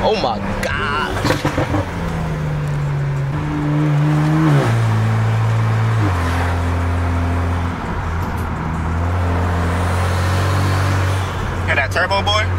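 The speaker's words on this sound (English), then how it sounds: "Hear that turbo, boy? You hear that?" Car accelerating hard from inside the cabin, turbo building as the engine climbs through rising gear steps, loud and continuous for about twelve seconds, with excited talk from occupants over it.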